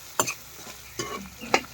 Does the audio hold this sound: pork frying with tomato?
yes